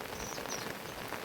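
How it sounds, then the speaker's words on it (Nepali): Heavy rain falling in a village near a jungle, a steady close hiss of drops on surfaces with no break, fairly faint overall, and a couple of thin high bird calls just audible behind it. "ठुलै हुन्छ यहाँ त पानी"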